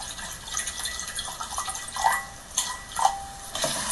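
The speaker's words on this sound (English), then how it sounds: "So first, let's put some water into our container." Water running from a sink tap into a container, with a trickling stream and scattered drips and splashes rising and falling in level, close and fairly faint.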